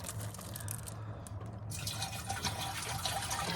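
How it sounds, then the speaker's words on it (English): Water from jugs pouring into an empty 2.5-gallon water cooler, a steady close gurgling fill with splashy liquid sounds throughout, fairly quiet, no talking. "I grabbed 2 water jugs, and I'm gonna fill this up."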